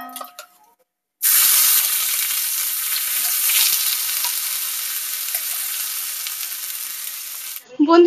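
Fish rubbed with turmeric and salt hits a hot pan and fries with a loud, steady sizzle that starts abruptly and hisses continuously for about six seconds before cutting off.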